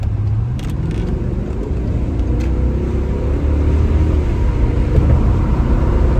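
A VW Phaeton with a 4.2L V8 accelerates onto a freeway, its engine a continuous deep roar and road rumble that swells slightly as speed builds, heard from inside without talk.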